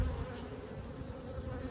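Honeybees hum in a steady, dense drone over an opened hive during an early-season inspection in the UK, a close, even buzz with no voices.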